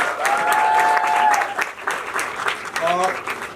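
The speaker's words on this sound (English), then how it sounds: "Can we have a huge round of applause for these young masterminds?" An audience applauds at a music video launch event, a dense burst of clapping partly under a host's voice, with tonal whistle-like sounds mixed in.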